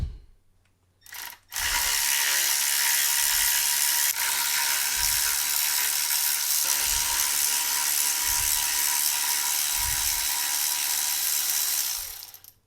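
A ratchet or power tool works the bolts out on a Mercedes E55 during maintenance, a loud continuous mechanical whir with a rhythmic thump repeating every second or so.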